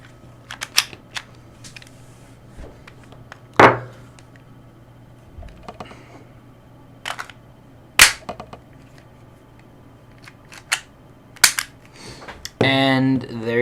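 Glock 26 pistol handled at close range, its slide seated with several sharp, isolated clicks and clacks spread through a quiet room, one slightly louder snap near the middle and a brief rattling burst at the end.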